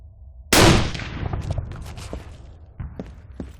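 Gunfire from the Arma 3 war mod (IFA3): a loud opening shot with a long echoing tail, followed by a scattered run of fainter shots and clicks.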